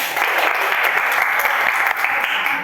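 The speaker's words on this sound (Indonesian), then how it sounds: "Tolong beri tepuk tangan buat temannya." Students in an informatics classroom applaud a classmate with steady, dense clapping that stays loud and close throughout, then stops briefly near the end.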